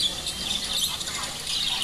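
A pair of lovebirds in a cage at a bird market, giving sharp high chirps and squawks in quick bursts over faint background market noise.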